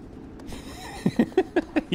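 A horse gallops in the video game Shadow of the Colossus, rhythmic hoofbeats thudding at a steady quick pace after a brief softer lead-in.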